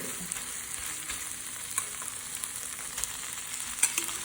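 Minced pork sizzles steadily in a hot pan with chili paste for northern Thai nam phrik ong, a constant close hiss broken by occasional stirring scrapes and soft clicks, with no voices.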